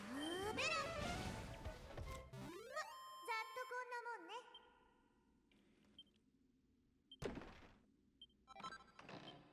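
Cat enemies in the Dragon Quest VII Reimagined video game let out meows and caterwauls, a rising wail early on followed by shorter game tones and a few thuds, loud at first then quieter.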